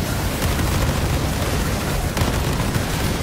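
A heavy weapon blast from the video game Borderlands 3, a loud, dense explosive roar that fills the whole stretch with sustained rumbling booms and no clear gaps, close and overpowering, with no voices.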